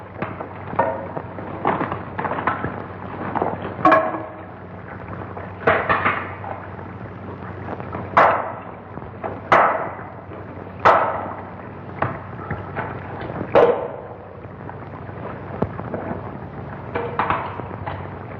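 Two hammers pound against a wall in a 1951 science-fiction film scene, irregular heavy strikes every second or two, sharp and close over a steady low hum and rumble.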